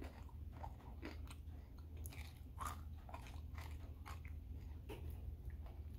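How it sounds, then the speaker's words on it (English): Close, crisp crunching from repeated bites, an irregular run of loud snaps over a low steady hum. "I like the crunch of the potato chip"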